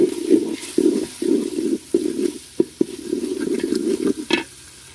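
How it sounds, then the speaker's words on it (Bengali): A spatula stirs onion, garlic, ginger and cumin paste in a frying pan, steady scraping strokes over a soft sizzle with a few sharp knocks near the end; close and fairly loud, no talk. "এবার সবগুলো উপকরণ দিয়ে ভালোভাবে নাড়াচাড়া দিয়ে দেব।"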